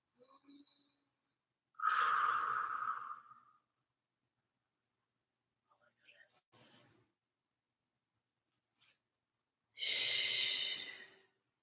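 Heavy breaths, exhaled and drawn in, come from someone during a home Pilates workout, with two long strong breaths separated by quiet and a few short sharp puffs in between.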